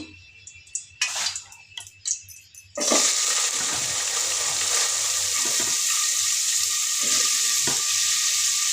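Onions frying in oil in a pan, a sudden loud, steady hiss of sizzling that starts after a few quiet clinks and holds on evenly and close by.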